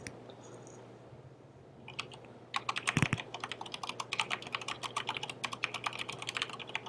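A git clone command is typed on a computer keyboard: after a quiet start, a few scattered taps lead into a steady run of quick, close, crisp keystrokes with one heavier thump near the middle.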